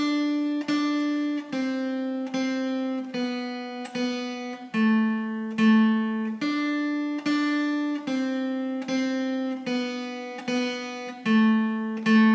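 A simple single-note guitar melody plucked steadily, one clear note after another at an even pace, close and clean with no voices.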